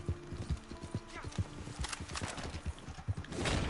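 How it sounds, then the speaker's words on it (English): Horse hooves clip-clop in a Red Dead video game as the mount walks, a steady run of close, thudding beats with a brief whinny, while a player talks over the action. "Why is my horse tripping?"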